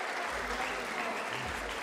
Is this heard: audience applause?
yes